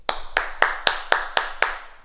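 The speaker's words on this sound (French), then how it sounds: "On s'applaudit, bravo." A small group claps for themselves after a balance exercise in a martial movement class: seven sharp, evenly spaced claps in unison, close and clear, with no talking.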